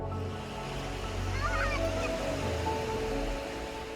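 Sea waves wash steadily onto Nivti beach near Vengurla on the Konkan coast, a shore set between two rocks at sunset. The surf is a continuous rushing roar, with a brief bird call midway.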